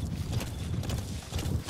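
Hooves of D-Horse in Metal Gear Solid 5: The Phantom Pain clip-clop in a steady rapid gallop, thudding and close, with a low rumble underneath.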